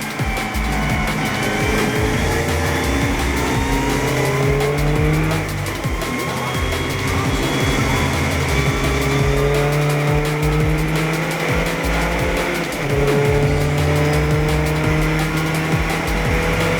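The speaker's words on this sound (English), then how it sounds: "as the cars got up to racing speed" Several race cars at the Birkett Relay handicap event accelerate together up to racing speed, engines droning and shifting pitch continuously, loud and steady throughout with no speech.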